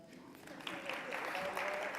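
Audience applause at a panel talk on queer joy and resistance, starting softer and swelling to a fuller, continuous patter of clapping that holds to the end.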